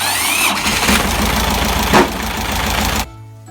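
A car's starter motor cranks and the engine catches, running loudly and roughly for about three seconds before cutting off abruptly into a quiet hum; the starting follows work on the starter solenoid connections.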